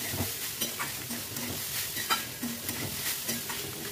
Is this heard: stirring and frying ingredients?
yes